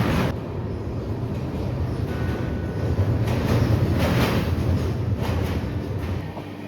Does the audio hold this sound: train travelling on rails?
yes